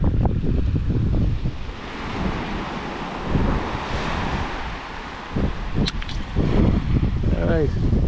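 Waves wash against a shoreline as the tide goes out, a steady rushing surf blended with gusting wind noise on the microphone, with a few brief knocks and faint sounds near the end.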